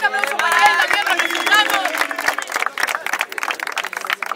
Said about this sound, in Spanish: un fuerte aplauso para él también